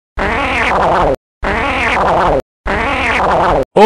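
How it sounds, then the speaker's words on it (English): Three long, loud fart noises in a row, each lasting about a second with short silent gaps between, coarse and buzzy, close to the microphone with no talk over them. "Farting in your face."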